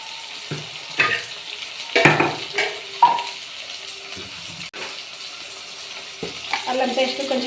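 Ginger paste sizzles while frying for aloo kurma, a close crackling fry with repeated scraping stirs and bursts of sizzle, no one talking.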